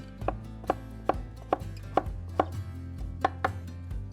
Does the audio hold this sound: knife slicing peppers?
yes